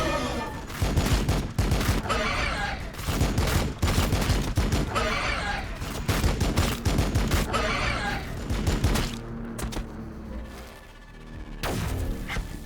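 Dense gunfire rattles almost nonstop in Warhammer 40,000: Battlesector, with rapid volleys and sharp individual shots that come close and loud before easing off near the end. No one speaks.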